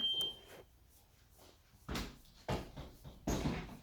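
A front door opens with a few dull thumps and knocks, followed by rattling bumps as it is propped open, over a quiet room.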